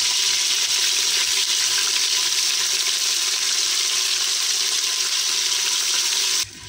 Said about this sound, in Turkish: Et suyunu çekip salana kadar eti kavuralım.